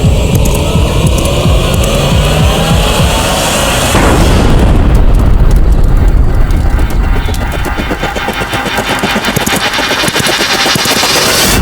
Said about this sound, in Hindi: ये कैसा धमाका?